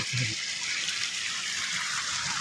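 Heavy rainwater rushes through a farm garden after a downpour, a steady broad hiss of flowing water with a short low vocal sound at the start.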